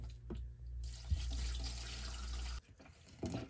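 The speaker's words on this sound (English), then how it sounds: "So I'm gonna drain this tank and put diesel in it." Waste oil drains from a diesel heater's fuel tank in a steady, close pouring trickle that runs for a few seconds, then briefly stops and resumes.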